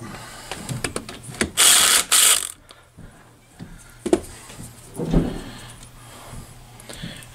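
Hand wrench clicks and ratchets while loosening bolts on a 1966 Honda Benly CA95E motorcycle, with a loud burst of metallic rasping near the start, then scattered close knocks and clanks of tools on metal.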